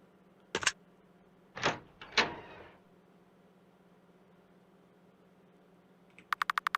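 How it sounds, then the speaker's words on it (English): A door opens in an RPG Maker horror game with three brief clunking thumps over a low steady hum, followed by a quick run of sharp, evenly spaced clicks. "Alright, opening the door now."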